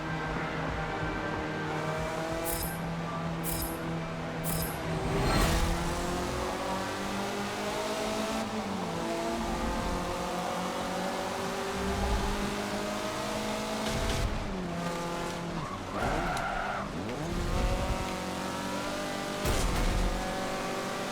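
Mazda MX-5 Cup race cars in Forza Motorsport 7 howl through a race, layered engines revving and shifting with passing whooshes and tire squeals, loud and continuous.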